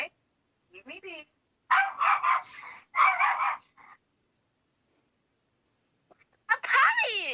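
A puppy barks and yips in a few short bursts, then goes quiet, with more high, whining yelps at the end. People talk close by between the bursts.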